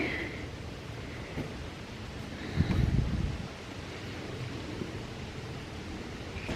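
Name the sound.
wind blowing outdoors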